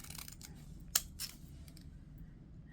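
Steel scissors snip through old postage stamps, cutting them apart: two quiet, sharp cuts about a third of a second apart over a low background hiss.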